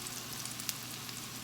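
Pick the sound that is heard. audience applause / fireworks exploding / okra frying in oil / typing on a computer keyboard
okra frying in oil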